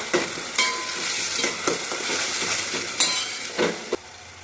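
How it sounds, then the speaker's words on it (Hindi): Chopped onion and a large tomato frying in a pan, steady sizzle with repeated sharp scrapes and clinks of a spoon stirring against the metal, close and fairly loud, no talking. "चलो इसे अच्छी तरीके से फ्राई कर लेंगे।"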